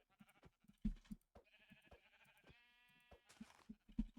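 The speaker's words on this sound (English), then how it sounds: "There's another sheep." A sheep in a video game bleats once in a long wavering cry amid soft, irregular thumps and clicks, fairly quiet overall.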